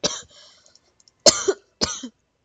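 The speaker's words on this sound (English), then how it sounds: "I have a bad cough" A person coughs three times close to the microphone: a short cough, a harsher double cough after a silent gap, then a final one, with quiet throat sounds in between.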